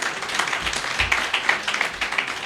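Dense, steady applause from a crowd at a political movement launch, many hands clapping together at a constant level for the whole stretch.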